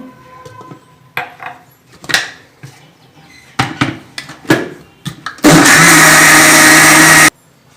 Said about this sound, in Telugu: సో కొంచెం కొంచెం నీళ్ళు పోసుకొని మనం రుబ్బుకుందాం.